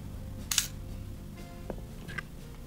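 Smena budget film camera being cocked and fired: a sharp mechanical click near 0.5 s, then softer clicks around 1.7 and 2.1 s, close and quiet against low background hum.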